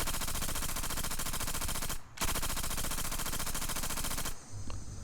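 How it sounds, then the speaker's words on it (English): Rapid continuous automatic Tommy gun fire, loud and close, with a brief pause before another long burst that ends abruptly. "That's the sound of a Tommy gun that I added in there."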